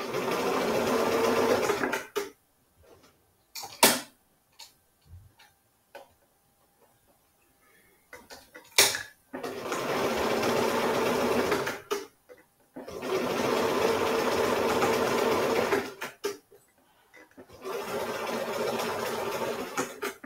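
A sewing machine runs straight stitching on a lavender bag in several bursts of steady mechanical whirring a few seconds long each. Short pauses between the runs carry faint clicks and handling noises.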